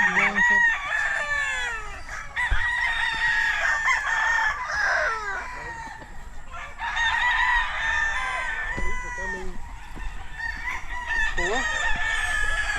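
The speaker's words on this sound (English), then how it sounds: "These are my cocks." Half Thompson White roosters in a gamefowl yard crowing repeatedly and loudly, several overlapping calls with clucks between, a voice briefly under them.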